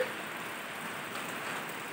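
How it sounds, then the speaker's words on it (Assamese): Steady rain falling outside a house with a garden, an even, continuous hiss of drops on surfaces, fairly loud and unbroken for its whole length. "বৰষুণ দিছে দেই, বৰষুণ, ঠাণ্ডা ঠাণ্ডা বতাহ, ভিতৰত সোমাই আছো"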